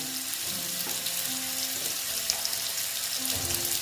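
Potatoes frying in a pan make a continuous soft sizzle that runs the whole time. Faint tonal hums and some watery, splashing texture sit underneath it.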